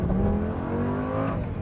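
Lamborghini Gallardo with its check engine light on, driving and revving, its engine note droning loud and close with a steady rising pitch throughout, no talking.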